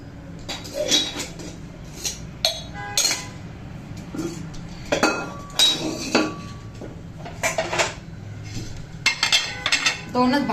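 Steel dishes, pots and pans clink and clatter while a home cook washes up in a busy kitchen, bursts of sharp metallic knocks and scrapes coming irregularly over running background noise, close and fairly loud.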